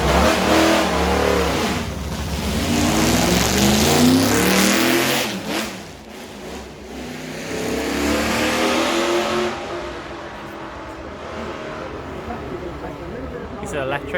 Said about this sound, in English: Oh, look at that. Vintage Ferrari.